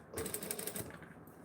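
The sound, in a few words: sewing machine stitching a towel topper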